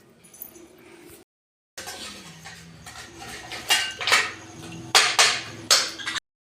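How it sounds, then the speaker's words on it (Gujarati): A kitchen knife chops eggplants (brinjal), making a string of sharp taps and clacks against the board that grow louder and quicker toward the end, with a brief silent gap early on. "હવે આપણે આ રીંગણા આપણે સમારી લઈએ, કાપી લઈએ"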